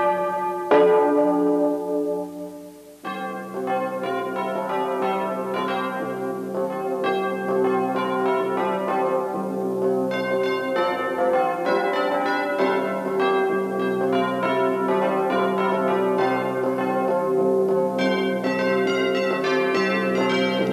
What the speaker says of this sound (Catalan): si sap a on sonen avui les nostres campanes